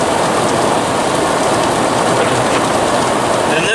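Heavy rain drums on a car driving a highway toward Deer Lodge, Montana, a loud, dense, constant wash of noise with no pauses and no talk.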